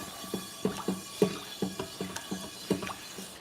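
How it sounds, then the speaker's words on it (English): Steel wool scrubbed around a wet cast iron pan, a quick series of gritty, scraping strokes in an uneven rhythm, close and fairly quiet with no talking. "I just put a little water in that cast iron, and now I'm going around it with the scouring pad,"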